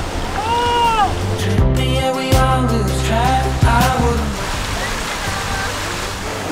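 A waterfall on a mountaintop above an anchored 10-metre sailboat on a remote island gives off a steady, broadband rush of falling water, with excited voices and exclamations talking over it throughout.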